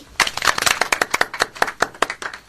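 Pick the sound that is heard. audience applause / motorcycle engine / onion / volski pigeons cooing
audience applause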